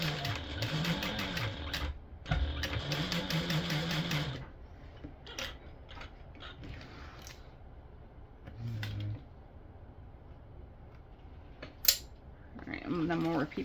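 A sewing machine topstitches a stadium bag in a loud, fast, whirring run of several seconds. Quieter stretches follow with scattered handling clicks and a voice speaking, then the machine starts up again near the end.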